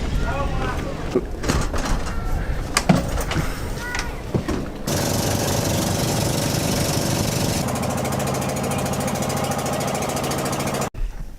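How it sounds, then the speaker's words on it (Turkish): A boat engine bound from Socorro in the Philippines starts up after a stretch of talk and clatter, then runs at a loud, steady drone through the rest of the ride. "Şu anda tekneye biniyorum."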